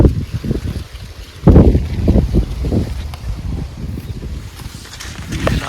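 Strong gusting wind sweeping through a maize field, heavy buffeting rumbles against the microphone that swell and fade in loud, uneven bursts.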